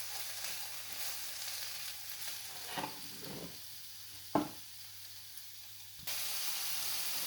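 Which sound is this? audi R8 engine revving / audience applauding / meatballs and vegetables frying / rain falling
meatballs and vegetables frying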